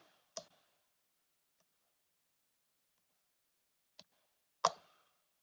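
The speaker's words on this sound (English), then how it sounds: "in my TI-84, I'm going to type in ln 42 divided by the natural log of 3" Button presses on a TI-84 graphing calculator keypad: three sharp, isolated plastic clicks spaced far apart in an otherwise quiet room, the last one loudest.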